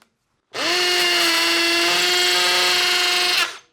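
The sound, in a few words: hammer drill driving Tapcon screw into concrete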